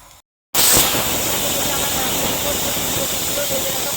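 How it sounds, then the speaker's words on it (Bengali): A pressure cooker holding fish curry with cauliflower vents steam just before it whistles. After a brief silence, a loud, steady hiss starts abruptly and keeps going right up close. "ঢাকনিটা আটকে সিটির জন্য বেশ করবো সিটি উঠবো উঠবো করছে দেখুন"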